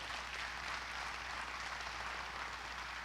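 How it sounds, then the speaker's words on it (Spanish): A church congregation at a Christian Thursday service applauds, a dense steady wash of many hands clapping together at even loudness throughout, with no voices rising above it. "Aplauda al Señor, por favor."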